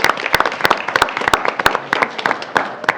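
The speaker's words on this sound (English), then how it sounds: "please a round of applause for them coming out this evening" An audience at a school board meeting breaks into close, lively applause, irregular sharp claps overlapping for several seconds with no voices on top.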